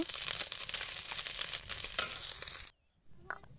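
Close, loud sizzling of fish frying in hot oil, a dense crackling hiss that cuts off abruptly, followed by a brief quieter sizzle.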